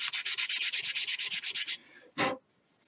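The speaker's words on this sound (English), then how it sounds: "a little bit more sanding on that one" Rhythmic back-and-forth sanding of holes in a model rocket part, about a dozen quick even strokes close up, then a pause, one final rub and a few faint light taps.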